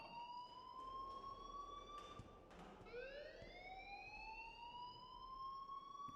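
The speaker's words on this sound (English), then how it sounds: "please turn off that alarm since that's your job" In the Life Is Strange video game a fire alarm rings steadily as a high electronic tone, breaking briefly and then resuming with a rising sweep, heard over faint background noise.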